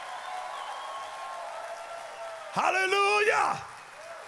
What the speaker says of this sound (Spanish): Dale el mejor aplauso que le hayas dado al Señor.